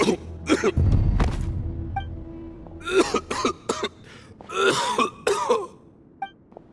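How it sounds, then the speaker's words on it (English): A video game character gives several harsh coughs and throat-clearing bursts in uneven clusters over a low rumbling background, with a few quiet pauses between them. "Why is he coughing so much?"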